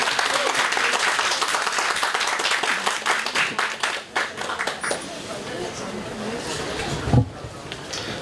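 Audience applause at a talk on normobaric chambers, dense and steady at first and then thinning into scattered claps, with voices and a bump of handling noise near the end.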